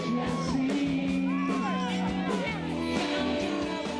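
A concert crowd cheers, shouts and whoops at an afternoon outdoor show, a dense, loud wash of voices and yells filling the space continuously.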